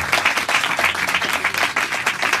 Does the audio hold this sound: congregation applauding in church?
yes